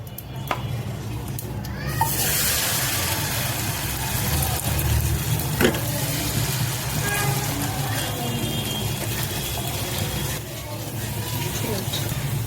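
Dosa batter sizzles steadily in an oiled pan for a bun dosa, a dense, continuous frying hiss that starts abruptly and holds at a constant loud level for the whole stretch.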